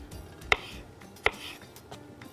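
A knife chops cucumber for a salad on a board, making two sharp, close strikes about three-quarters of a second apart, with fainter cuts around them. No one speaks.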